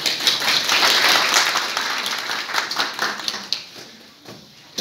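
An audience in a hall applauds at the end of a talk during a law students' court visit. Dense clapping starts strong, then thins out and fades over a few seconds.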